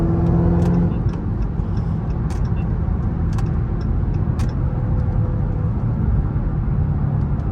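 A Dodge Hellcat's supercharger whines as the car drives through morning traffic, the steady engine drone running loud and close throughout, with brief sharp ticks overhead and no talking.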